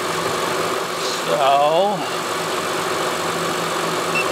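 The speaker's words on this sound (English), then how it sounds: "For this, we need the engine running." A vehicle engine idles at a steady even hum, close and continuous, with a person speaking briefly over it partway through.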